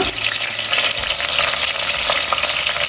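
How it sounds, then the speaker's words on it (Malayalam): Dried red chillies and curry leaves fry in hot oil, giving a loud, dense, continuous crackling sizzle up close for a few seconds with no voices. "എണ്ണ നല്ല ചൂടായി വരുമ്പം അതിലേക്ക് വറ്റൽമുളക് പിന്നെ കുറച്ച് കറിവേപ്പില"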